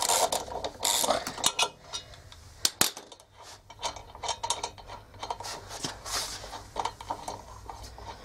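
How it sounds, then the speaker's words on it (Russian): A screwdriver unscrews the magnetic rotor bolt of an LG washing machine, making repeated ratcheting clicks, metallic scrapes and clunks in uneven bursts at close range. "я коленкой упираю отвертку в болт, фиксирую рукой и откручиваю"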